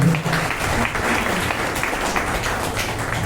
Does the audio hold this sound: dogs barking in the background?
no